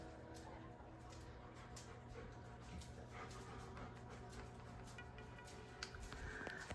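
A pet dog whimpers softly in the background of a house, faint, intermittent whines and yips over steady low room noise.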